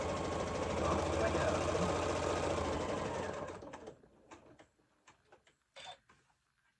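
A sewing machine stitches a fabric jar opener in a fast, steady mechanical whir for several seconds, then stops, leaving a few scattered clicks and handling sounds.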